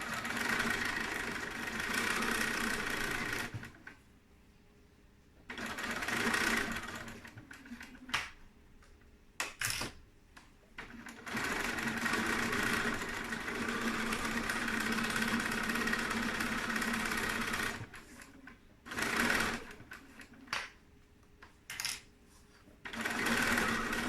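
A sewing machine fitted with a Teflon foot stitches thin film in several bursts of steady mechanical whirring, with short quiet pauses between runs.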